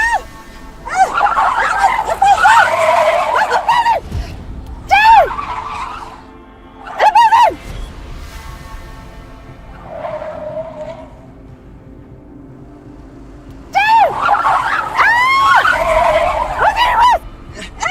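A car braking hard with tires skidding and squealing in repeated loud bursts, rising and falling over several seconds with quieter gaps between them.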